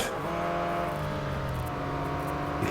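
A Porsche Boxster GTS in the racing game Real Racing 3 accelerates with a steady, humming engine note that holds and climbs slightly, a continuous drone with no talk over it.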